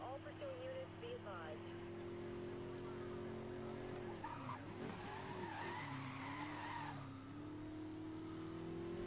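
A Ford F150 truck drifting in the Need For Speed Most Wanted video game, with long tire squeals and skidding over a steady engine drone, and a voice talking over it.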